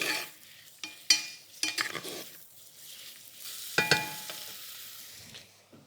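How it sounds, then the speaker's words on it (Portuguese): Finely sliced mushrooms sautéing in a pan with a pinch of flor de sal, soft frying hiss broken by sharp spoon knocks and scrapes against the pan, close and alone. "Juntamos então os cogumelos laminados finamente. E deixamos refogar."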